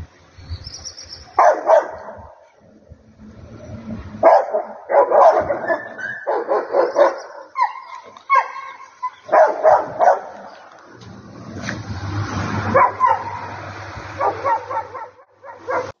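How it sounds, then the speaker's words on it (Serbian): Stray dogs bark in the street in Tutin, loud, repeated bursts from several animals with short pauses between, mixed with yips and a growling stretch near the end. "Psi lutalice godinama unazad prave probleme u mnogim sredinama"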